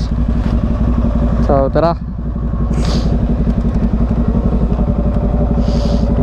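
A Yamaha R15M motorcycle on its stock exhaust idles with a steady, close, rapid putter after being started, joined by a brief clatter, under short bursts of talking.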